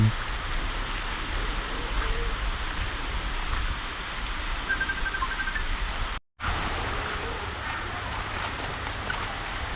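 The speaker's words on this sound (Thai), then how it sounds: "ฝนตก" Steady, dense hiss of rain falling on a market in Khemarat, Thailand, broadband and continuous, with a brief dropout partway through before the downpour resumes.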